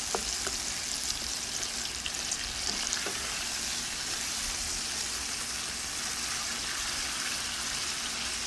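Onions frying in a pan for French onion soup, a steady, close crackling sizzle with faint scattered pops running unbroken throughout, no voices.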